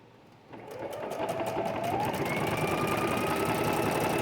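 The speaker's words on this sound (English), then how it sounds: "Let me switch to a zigzag. I'm going to stitch around." A sewing machine runs steadily while zigzag-stitching around the edge of a handmade journal, starting after a short pause and then holding a continuous, close whirring hum for several seconds with no talking.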